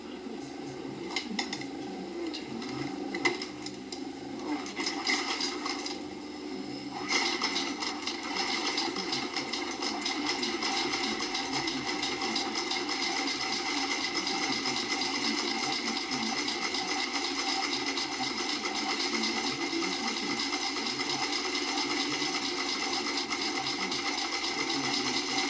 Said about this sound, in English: we're going to machine stitch all the way down here.